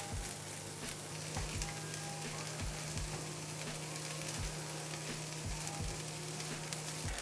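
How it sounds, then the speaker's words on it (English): Beyond vegan sausage browns in a hot pan with a little oil, giving a steady, dense sizzle with soft, regular low thumps underneath, close and continuous with no talking. "The sausage has been cooking for a couple of minutes and it's nice brown."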